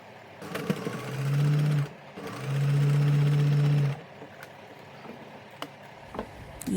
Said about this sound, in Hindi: सिलाई से सिलाई जोड़ते हुए हम इसको पहले स्टिच करेंगे